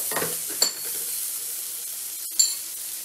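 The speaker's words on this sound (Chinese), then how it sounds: "我们先炒一下那个虾哦" Shrimp sizzle in a hot wok, a steady close frying hiss punctuated by two sharp metallic scrapes of the spatula against the pan.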